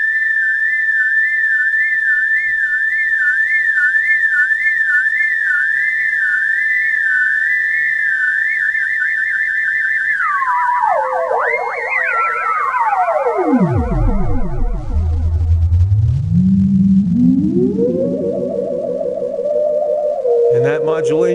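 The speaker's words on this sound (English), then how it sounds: "that modulation is taking place as a result of modulating the LFO delay of the echo" An MFOS Echo Rockit synthesizer tone run through its echo delay, with the delay time swept by an LFO so the pitch wobbles, warbles and slides down then back up in loud, continuous modulated sweeps.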